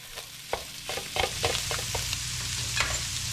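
Ground meat browns in a pan for sheet pan lasagna, a steady close sizzle broken by irregular scraping and stirring knocks of a utensil against the pan.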